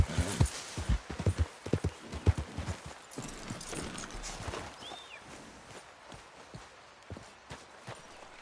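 Horse hooves clip-clop in Red Dead Redemption 2, with a brisk run of loud, close strikes at first that ease into a quieter, steady walking rhythm against faint game ambience.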